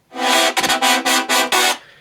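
Synth chord stabs swept by a cutoff filter in a rhythmic pulsing pattern, about five loud bright bursts in quick succession with gaps between, close and alone.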